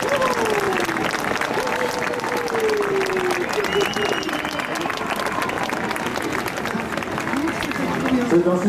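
Sustained audience applause and cheering fill the space at the close of La Forge aux Étoiles, a live night show at Futuroscope, dense and steady throughout, with a loud voice announcing over the crowd noise.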